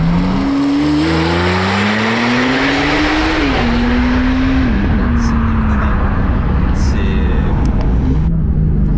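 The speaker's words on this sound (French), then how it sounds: "Tiens, de l'accélération." A Porsche 991.2 Turbo S with its muffler removed and a stage 1 engine remap accelerates hard, its loud raw engine note climbing through several gear shifts, with road and wind roar underneath throughout.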